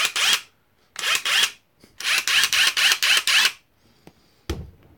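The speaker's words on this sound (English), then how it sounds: "You got to see the new Gen 5X brushless impact wrench." Gen 5X brushless impact wrench in assist mode, fired in several short bursts: loud whirring, rapid hammering runs of under a second to about a second and a half, separated by brief silences, ending with a single sharp knock, with no voices.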